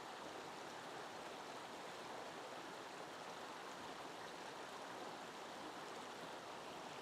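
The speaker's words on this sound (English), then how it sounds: "I could just sit here and listen to the babble of this brook" A babbling mountain brook runs steadily and close, its water rushing and splashing in a broad, constant wash with no pauses, no voices and nothing else heard above it.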